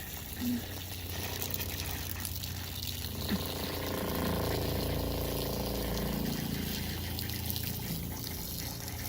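An RV water pump in a Winnebago Solis 59PX pushes pink antifreeze through the water lines during winterizing, giving a steady, continuous hum and rush of flowing liquid with no pauses.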